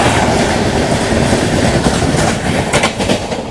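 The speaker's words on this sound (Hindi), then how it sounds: "भाई ने यहाँ पे पैरेलल अपनी ट्रेन को ओवरटेक कर लिया है" A passenger express train in India runs at high speed on a parallel line during an overtake, giving a loud, dense roar of wheels and rushing air with clattering rail joints near the end and no voices.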